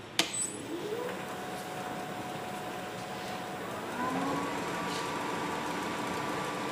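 A wood lathe spins a natural-edge bowl at about 1,000 RPM, a steady, fairly quiet whir with a faint tonal hum and a sharp tap at the start.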